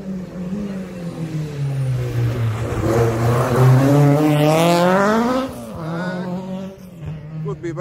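A rally car on a County Mayo stage approaches and sweeps past at speed, engine rising loud and close, pitch sliding as it goes by, then fading into the distance.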